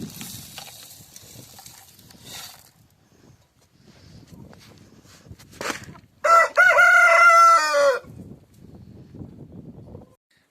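A rooster crows loudly once nearby, preceded and followed by scattered soft clucking from chickens in a quiet yard.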